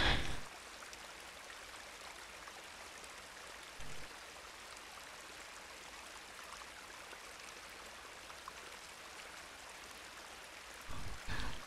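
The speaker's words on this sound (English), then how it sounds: "Uh, waterfalls." A steady waterfall in the farming game Coral Island rushes and splashes continuously at low volume, with a couple of brief louder bursts at the start and end.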